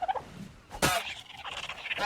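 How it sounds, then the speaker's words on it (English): In Ark Survival Evolved, a dodo bird lets out a sharp, fowl-like gobbling squawk, with fainter clucks before and after it, heard close against quiet in-game ambience. "Let's take out this dodo bird as well"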